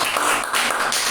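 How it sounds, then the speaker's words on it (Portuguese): Steady, dense applause fills a church service at an Assembleia de Deus congregation, a continuous wash of clapping from the congregation praising Jesus, loud and without a break. "as palmas para Jesus"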